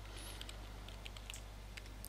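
A Sims character taps away at a computer keyboard in The Sims 3, with quiet irregular key clicks over a low steady hum, faint and without talk.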